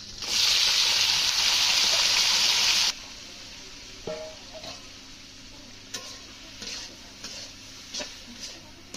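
Boiled taro stem hits hot oil in a village kitchen pan with a loud, bright sizzle for about three seconds. It then settles to a quieter crackle broken by scattered clicks of stirring.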